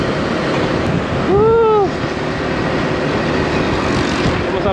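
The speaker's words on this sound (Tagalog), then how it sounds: "malakas ang hangin dito lalo na pag nasa taas ka" Strong wind roars steadily and loudly across a Suzuki Gixxer motorcycle rider on a bumpy road. A brief whistling tone rises and falls partway through.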